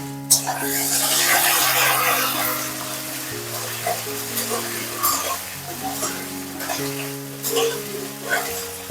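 Raw papaya pieces hit hot mustard oil tempered with mustard seeds and dried red chillies, setting off a loud sizzle that settles into steady frying, with stirring clatter and a tonal background hum; no talk over it.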